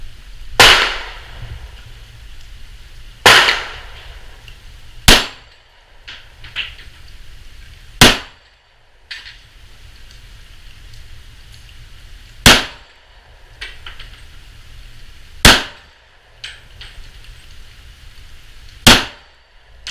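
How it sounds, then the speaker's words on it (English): Gunshots ringing off steel targets at a shooting range: eight sharp, loud cracks spaced a few seconds apart, each with a brief metallic ring, over a quiet outdoor background. "I'll go ahead and I'll shoot another one."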